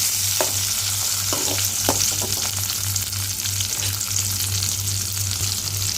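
Steady, close sizzle of ingredients with coconut pieces sautéing in a pan for mint chutney, with a constant low hum and scattered spatula taps and stirs.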